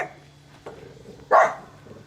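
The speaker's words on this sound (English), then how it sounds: "That's his dog." A dog barks once, a single sharp loud bark close by after a stretch of quieter background noise, with no talking.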